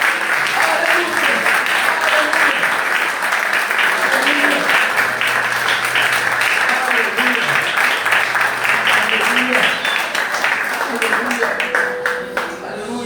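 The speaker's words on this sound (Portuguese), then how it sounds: "Receba o aplauso dessa igreja nessa hora, em nome de Jesus" A church congregation applauds during a worship service, sustained clapping from many hands filling the room, with shouts and voices over it before the applause thins out near the end.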